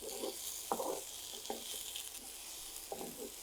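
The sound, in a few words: tomato frying in a pan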